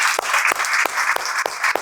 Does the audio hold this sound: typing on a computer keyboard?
no